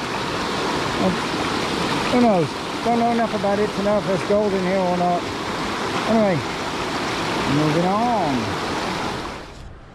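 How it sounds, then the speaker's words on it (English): A river runs beside a creek bed while someone talks over it; the water makes a steady broadband rush that sits under his voice for the whole stretch. "I just came up from the river."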